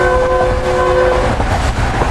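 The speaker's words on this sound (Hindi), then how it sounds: "ट्रेन हमारी अप्रोच बना रही है समसट्टा जंक्शन रेलवे स्टेशन पर" The Pak Business Express sounds a loud, sustained horn as it approaches Samastata Junction station, the tone holding steady over the rumble of the moving train.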